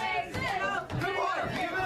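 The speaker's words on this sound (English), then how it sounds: "Hear the crowd trying to rally support behind Jason Kincaid." A wrestling crowd rallies behind a wrestler mid-match, a dense roar of voices and shouts swelling and dipping across the arena, with a commentator's voice running over the top.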